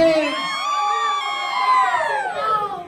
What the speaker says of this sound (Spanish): Un grito de toda la gente de Zacatecas Oriente.